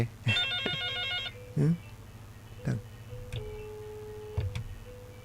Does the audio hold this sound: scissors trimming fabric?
no